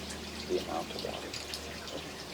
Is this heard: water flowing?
yes